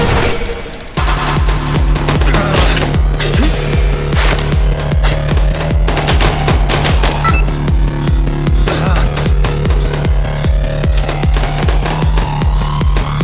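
Loud rapid gunfire and a headshot in the video game I Am Your Beast, dense repeated shots over a pounding, throbbing music track.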